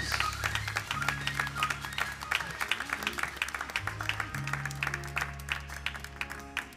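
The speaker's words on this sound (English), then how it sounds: "Give the Lord a hand clap of praise." Church congregation clapping hands in praise during a live worship service, dense steady applause with a rhythmic pulse over sustained organ or keyboard chords, voices faintly mixed in.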